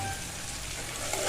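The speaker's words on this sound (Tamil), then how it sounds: "இப்படி தான் அமுக்கு முட்டை பொரிக்கிறோம்." Four eggs frying in a pan make a steady, close sizzle with fine crackling that holds at an even level throughout, with no voices heard.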